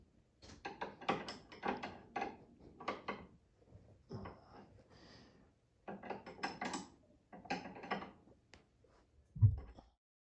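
Nuts on the arched control arms of a Polaris Sportsman 450 ATV are tightened with a ratchet, giving bursts of quick clicking ratchet strokes separated by short pauses, close and fairly quiet.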